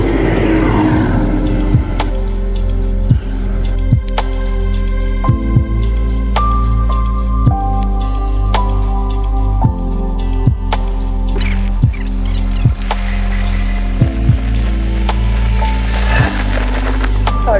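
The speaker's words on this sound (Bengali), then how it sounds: "চলুন বাইক স্টার্ট দেওয়া যাক, বাড়ির দিকে রওনা দিই।" A motorbike engine running on a road near the Bhanga intersection in Faridpur, a loud steady droning hum with recurring gear-shift thumps and rising-falling revs, close to the rider.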